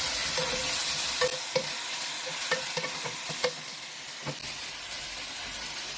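Chicken pieces fry in a pan with paprika, giving a steady sizzling hiss with scattered crackles and a few stirring scrapes, close and fairly loud, with no voices.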